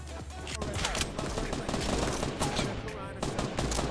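Fortnite gunfire hitting the player, a loud, close, rapid stream of shots rattling almost continuously, with a voice talking over it.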